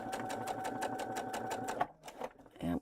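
A sewing machine topstitching in a fast, regular run of needle strokes, loud and close, which stops abruptly, followed by brief handling noises.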